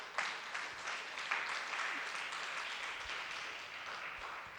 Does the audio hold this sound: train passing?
no